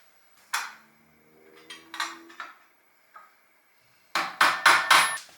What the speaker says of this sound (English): with a long flat point screwdriver and a hammer and some very careful tapping